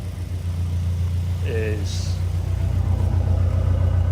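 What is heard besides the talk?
Caterham car engine running, warming oil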